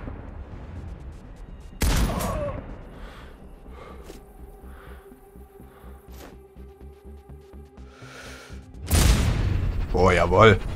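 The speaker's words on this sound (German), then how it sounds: "Endlich mal wieder schöner Schuss." A sniper rifle shot in the video game Sniper Ghost Warrior Contracts 2, a sharp loud blast followed by a decaying echo and ambient game sounds, with someone talking over the scene.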